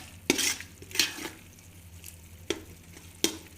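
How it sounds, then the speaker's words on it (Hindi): Masala gravy for karela fries in a pan under a soft sizzle, stirred with a spoon in four or five sharp, close scraping knocks spaced about a second apart, with no talk. "इन्हूं हुण असीं अच्छी तरह भुन लवांगे"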